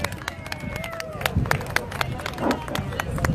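Crowd at an outdoor Canadians for Canada rally applauding speaker Ron Banerj, scattered sharp claps mixed with crowd murmur and voices, moderately loud throughout.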